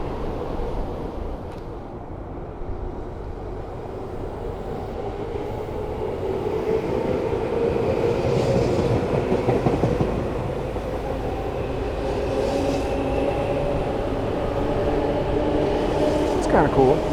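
A train pulls out of a station on a night street, giving a continuous low rumble with rhythmic rolling clatter that swells mid-way, and a brief high squeal near the end.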